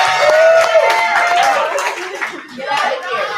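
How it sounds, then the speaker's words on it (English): A small group at a graduation ceremony claps and applauds for a few seconds, with some cheering voices mixed in before it fades. "Can we all give Nas a hand of applause?"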